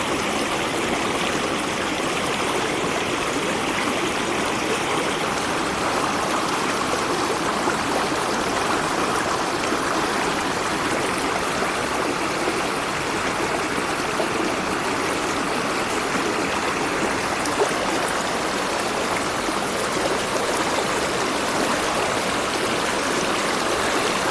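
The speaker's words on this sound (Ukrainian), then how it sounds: "щоб було чути справжній природній звук, який створює вода." Water rushes steadily down the Divochi Slozy waterfall and its stream, a loud, unbroken roar and splash that stays constant throughout with no voices.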